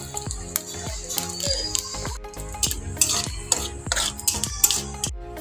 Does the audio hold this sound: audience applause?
no